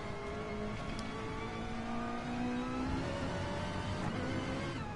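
A Ferrari GT3 race car heard from onboard at the Red Bull Ring, its engine revving up through rising tones with gear changes between climbs, loud and steady beneath constant wind and road roar.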